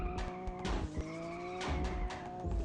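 A car in a racing video game revs up as it accelerates, its engine note climbing steadily with tire squeal and skid noise over a steady loud drone, and no talk.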